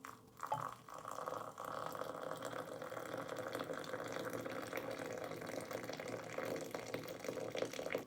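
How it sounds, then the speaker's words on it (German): Water pours into a yerba mate gourd already half filled with tea leaves, a faint, steady trickle and fill that runs continuously for several seconds with no voices. "Und danach kommt das Wasser rein."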